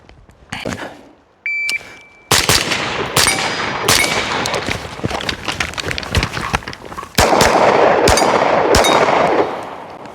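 Rifle gunfire during shooting practice for a match, with a shot-timer beep, then a quick string of sharp, close shots that grows into rapid, dense firing near the end.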